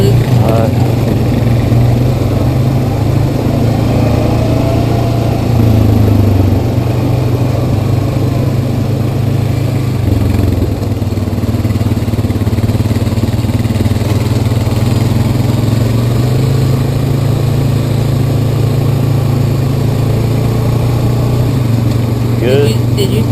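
A Yamaha Kodiak 700 and a Honda Rancher ATV run on a trail in four-wheel drive with a loud, steady engine drone and low rumble that rises and falls slightly, close by, with riders talking over it.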